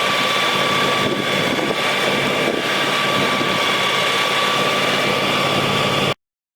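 A John Deere X738 garden tractor clears snow with its blower, its engine holding a loud, steady drone with wind roar mixed in for about six seconds before cutting off abruptly.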